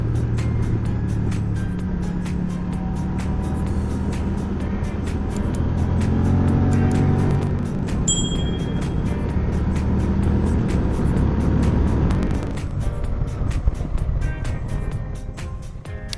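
A Moto Guzzi motorcycle cruising steadily along a country road in the Jura on the way to the Vercors, its engine droning low and constant with wind rush throughout.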